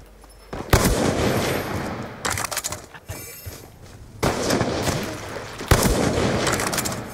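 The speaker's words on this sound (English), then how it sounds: "Whenever I get really close, I just blind fire." Close-range blind-fire gunshots in Call of Duty: Black Ops 2, several loud, sharp bursts of rapid shots separated by short gaps, with crackling impacts and a rumbling game background between them.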